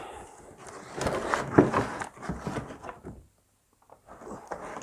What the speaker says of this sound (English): obviously the lid is locked down, so we'll take that off